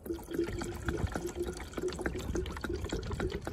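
Coolant glugs and trickles as it is poured into the cooling system of a Renault Captur 0.9 TCe, a steady close-up liquid pour with small splashy gurgles and no talking.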